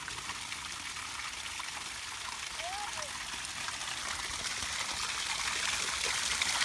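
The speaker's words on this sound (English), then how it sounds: "All this valve is now open and everything's going to drain right out." Swimming pool water drains out through an open valve, a steady broadband rush of flowing water that builds slightly louder over the span.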